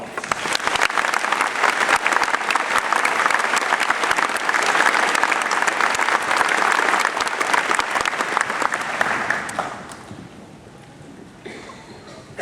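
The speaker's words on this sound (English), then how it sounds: "At this time, I want to be honoring him with a round of applause." Audience applause at a graduation ceremony, a dense, steady wash of clapping that holds loud for about nine seconds before thinning and fading out.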